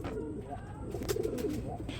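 Grizzle racer pigeons cooing nearby at a pigeon farm, soft throaty rolling calls overlapping each other against low background noise, with a few brief rustles.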